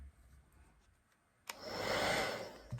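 A hair dryer switches on abruptly and blows a steady, close whooshing stream of air over red paint on a wooden decoupage craft with wooden beads, preceded by faint quiet handling.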